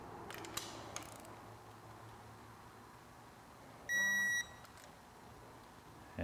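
Electronic torque wrench on Vespa GTS cylinder bolts during a Malossi cylinder kit install, with faint ratcheting clicks at first, then a single loud steady beep near the end signalling the torque value is reached.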